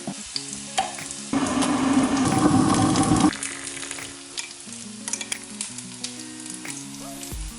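Hash browns fry in a non-stick pan with a loud, crackling sizzle that lasts about two seconds, set between stretches of soft tonal music.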